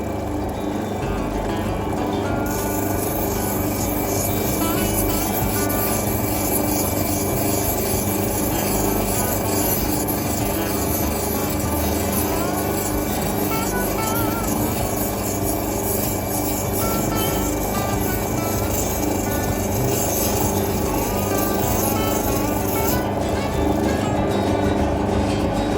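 Lapidary grinding wheels rasp steadily against a thin opal bar, a continuous loud rubbing grind under a constant motor whine that runs the whole time without talk.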